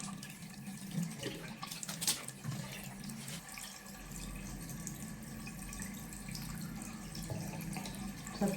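Cold water runs steadily from a bathroom tap into a sink, splashing close by with a few brief clatters near the start and no voices.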